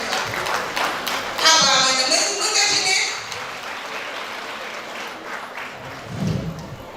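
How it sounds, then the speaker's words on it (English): Audience applause at a women's forum event in Katsina, a sustained wash of clapping that swells and then fades over several seconds, with voices talking over it. "Please a very round of applause as he comes up."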